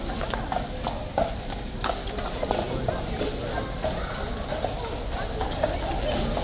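Life Guards horses clip-clopping on a street, a steady near rhythm of hooves with people chattering and speaking over it.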